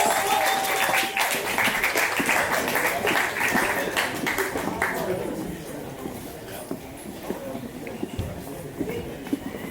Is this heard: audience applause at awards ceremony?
yes